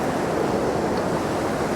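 Waterfall at Ossian's Hall in the Hermitage, a dense, steady rushing roar of falling water filling the clip with no talk over it.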